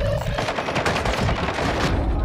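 Rapid automatic gunfire from Call of Duty: Modern Warfare II, loud, dense bursts of shots running continuously with heavy low-end thump, no voice over it.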